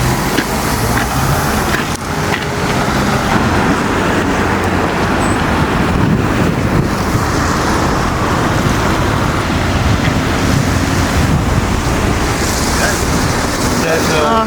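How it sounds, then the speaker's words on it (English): Ducati motorcycle engine on a high fast idle, a steady, loud, unbroken rumble outdoors with wind buffeting the microphone throughout. "So there's obviously fast idle on there. They are quite enthusiastic with the fast idle."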